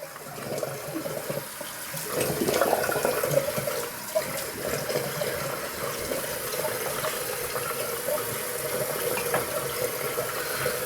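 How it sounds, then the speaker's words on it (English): Tap water runs steadily into a sink during washing up after a shave, a continuous close splashing hiss with a slight surge early on and no talking. "Let me wash off here."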